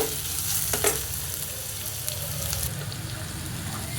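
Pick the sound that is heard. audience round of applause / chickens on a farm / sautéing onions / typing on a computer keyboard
sautéing onions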